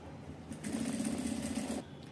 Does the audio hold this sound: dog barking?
no